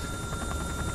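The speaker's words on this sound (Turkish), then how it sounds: "Helikopter düşüyor." Steady thudding rotor noise of a crashing helicopter in the video game Outlast 2, loud and continuous, with a synthetic game-like quality.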